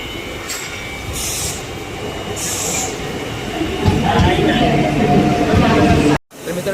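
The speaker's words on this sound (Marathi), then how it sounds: "आपली ट्रेन आली" A train arriving at Karjat station rumbles along with wheels squealing on the rails, growing louder toward the end, with voices faint in the background.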